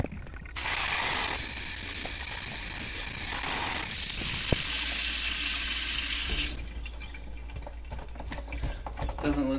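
Water from a tap sprays and splashes over a clogged roller filter, a loud continuous rush that shifts in tone as the stream moves, then cuts back to quieter dripping and small mechanical clicks.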